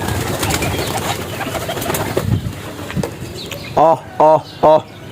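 Pigeons coo three times in a row near the end, soft and rounded, after a stretch of background noise and talking.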